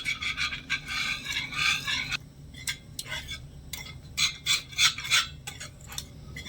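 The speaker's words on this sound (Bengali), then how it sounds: "এবারে সমানে নাড়াচাড়া করে একটু রান্না করে নেব আর একটু থকথকে হয়ে যাওয়া পর্যন্ত অপেক্ষা করবো" A spoon scrapes and stirs thick ripe-mango paste in a cooking pan, giving clusters of quick clinking, scraping strokes that come in bursts with short pauses, close and clear with no voices.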